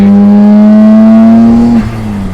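A twin-turbo 2.6-litre Nissan Skyline R32 GTR pulls hard under full throttle, its loud, close engine note climbing steadily for nearly two seconds before dropping sharply at a gear change and settling at lower revs.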